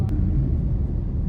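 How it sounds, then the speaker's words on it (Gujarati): Strong wind of a night dust storm in Rajasthan, a steady, loud, low roaring rumble buffeting close by throughout, with no voices. "આ બધું વાવાઝોડું છે પવન જ એટલો છે"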